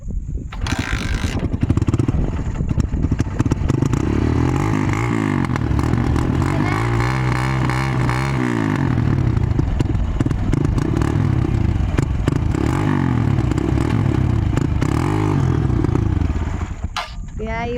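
An old motorcycle with a loose, rattling body clatters as it starts, then keeps running loud and close with uneven revving and metallic scraping, and people talk in the background.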